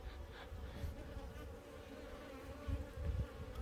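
Bees buzz around a hive during a forced swarm split, a dense continuous drone heard close and soft with slight swells, and no voices.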